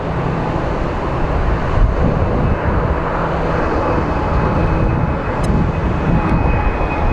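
A jet airplane coming in to land at Phoenix Sky Harbor International Airport produces a loud, steady, broadband roar that fills the whole stretch without letup.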